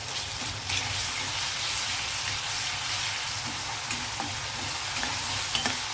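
Ginger garlic paste frying with onions in a pan gives a steady, close sizzle that keeps going without a break, while faint scrapes and clicks of stirring come through now and then and no one speaks.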